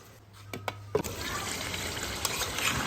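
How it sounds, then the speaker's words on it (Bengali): Water pours from a rinsed dish into a pot of chicken curry. A few soft clinks come first, then a steady, close splash and gurgle of liquid running to the end. "ডিশটা ধুয়ে আমি পানিটা দিয়ে দিব, আর এই পানিতেই আমার মুরগিটা সিজে যাবে।"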